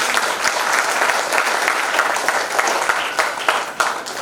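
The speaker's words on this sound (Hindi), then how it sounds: "जोरदार तालियां उनके लिए।" A large seated audience at a healthcare company motivational event gives loud, sustained applause for a top-ranked member, dense crowd clapping continuing evenly for over four seconds with a few louder claps near the end.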